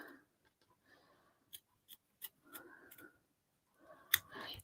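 Scissors trim fabric while a sewn bag is being made, with a few sharp, separate snips spaced through the clip. Quiet rustling of fabric being handled sits between the cuts.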